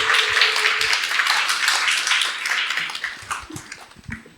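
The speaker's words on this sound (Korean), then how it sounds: "큰 박수로 환영해 주시고" An indoor audience at a seminar event in Daegu claps to welcome a speaker to the stage, a loud, dense burst of hand claps that thins out and fades toward the end.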